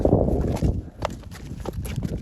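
Ardennes draft horses stepping, hooves clip-clopping in an uneven rhythm of close, dull thuds, with a stallion and a mare among them and a voice speaking faintly nearby.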